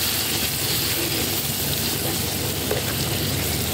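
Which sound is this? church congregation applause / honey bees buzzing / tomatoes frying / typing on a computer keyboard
tomatoes frying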